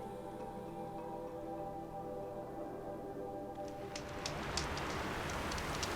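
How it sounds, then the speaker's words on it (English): Rain in the video game Horizon Zero Dawn starts up partway through, a sudden wash of dense hiss with scattered ticking drops laid over a low, steady ambient drone. "And suddenly it's raining."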